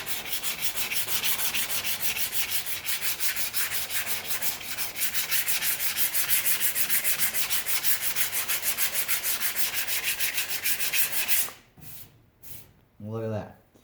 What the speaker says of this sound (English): we're sanding off all the heavy Bondo we just put on there